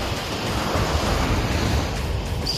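Calm sea water at the shore seen while fishing for gilthead bream, with a steady, close wash of surf and wind rumble and no speech.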